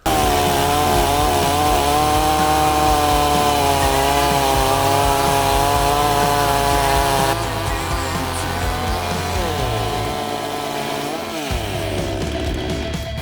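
A loud Ronix 4650 chainsaw revs and whines continuously as it cuts a log, pitch rising and dipping under load, then bogging down near the end.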